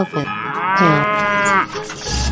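Cow mooing in an animated children's game, one long, loud, close moo with a rising then falling tone lasting over a second.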